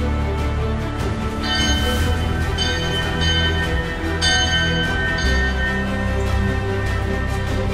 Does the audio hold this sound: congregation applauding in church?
no